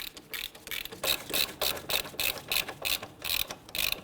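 Rapid, close clicking of a hand ratchet snugging down the front strut bolts on a 2011-2015 Kia Sorento, in about a dozen quick rhythmic bursts, no talking.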